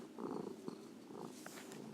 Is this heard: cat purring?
yes